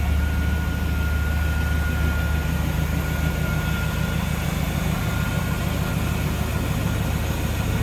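1997 Chevrolet Camaro SS 30th Anniversary Edition with an LT1 V8 idling, a steady low rumbling drone holding evenly throughout with no voices.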